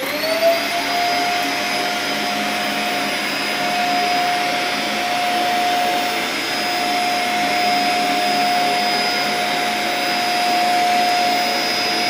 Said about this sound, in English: Now I'll turn on the vacuum cleaner.